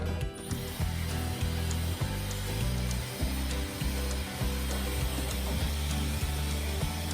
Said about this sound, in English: you use a dryer.